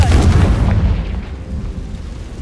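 A Confringo spell explodes in the video game Hogwarts Legacy, one loud booming blast that rolls off and fades over about two seconds, with no talking.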